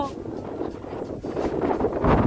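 Wind gusts buffet the microphone with a rough, rumbling roar that swells toward the end, with voices faintly mixed in, outdoors at a lakeside picnic.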